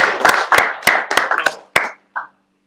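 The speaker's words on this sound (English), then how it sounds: "Big applause for Rama." A small panel audience claps, a handful of distinct, fairly loud claps close by over about two seconds, thinning out to a single last clap before silence.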